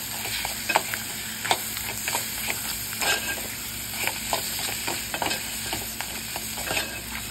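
Crab masala paste being stirred in a hot pan, repeated scraping strokes in an uneven rhythm over a constant frying sizzle, close and moderately loud.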